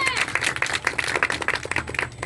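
A church congregation claps energetically in a dense, continuous burst of applause, loud and close, with voices mixed in.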